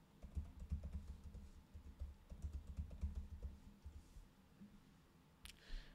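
Steady typing on a computer keyboard to enter a new password, a close, quiet run of soft key clicks in short bursts.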